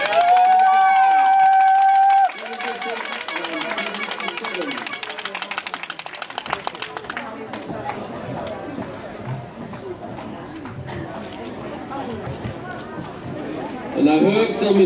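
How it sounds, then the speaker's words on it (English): Crowd at a junior ballroom dance competition claps and cheers as six finalist couples walk onto the floor, a dense wash of applause and hubbub following a loud musical opening, with voices heard throughout. "I heard some enthusiasm and some applause"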